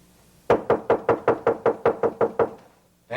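Ten firm, evenly spaced knocks on a door, loud and close, rapping in a steady rhythm with no voices.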